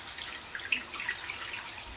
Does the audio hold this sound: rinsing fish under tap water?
yes